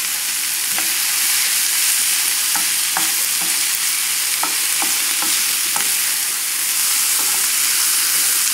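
Quinoa cooks in a pan over a low flame with a steady, loud sizzle throughout, broken by a few soft scattered ticks and pops, and no voices.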